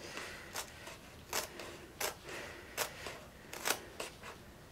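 Scissors snipping through sticky adhesive canvas: about eight quiet, separate crisp cuts at an irregular pace over a faint background hiss.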